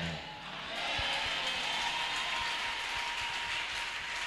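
A church congregation bursts into applause and cheering in worship, a broad sustained wash of clapping and voices from a crowd, steady and moderately loud with a few sharp low thumps.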